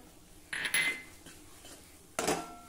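A spoon clanks and scrapes twice against a pan while stirring saffron coconut barfi mixture with ghee and cardamom, the two metallic knocks spaced apart over a quiet background.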